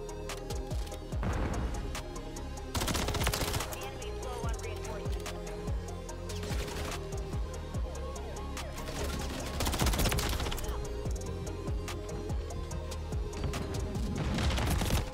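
Rapid bursts of automatic gunfire from a Modern Warfare 3 ranked match crackle in repeated volleys, with game action clatter throughout and occasional player talk.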